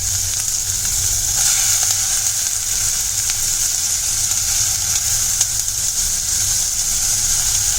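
Onion frying in oil in a pan for Phondashi chi bhaji, a steady, loud, close sizzle that runs unbroken throughout with no one talking.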